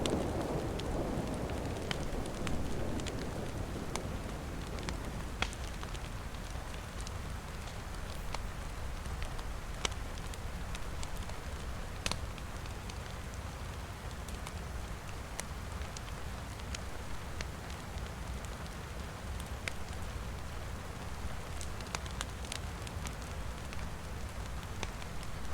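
A rainstorm in the survival video game DayZ fills the scene with steady, dense rain on surfaces, a constant wash of noise with scattered sharper drop ticks and no talking.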